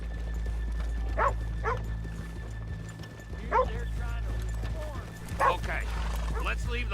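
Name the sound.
horses clip-clopping and neighing in the video game Red Dead Redemption 2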